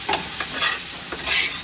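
A spoon stirs a butter, flour and white wine roux in a pan, with soft scraping strokes repeating every fraction of a second over a gentle sizzle.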